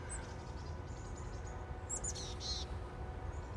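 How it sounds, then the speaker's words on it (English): Birds chirp outdoors on a sunny summer day in Banff, giving a few brief, high twittering calls over a steady low rumble of background noise. "you can hear the chirping"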